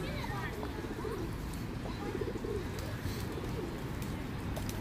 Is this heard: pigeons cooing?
yes